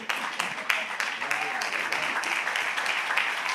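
Church congregation clapping steadily at a testimony service, a dense, continuous patter of many hands held at an even level throughout, with faint voices underneath.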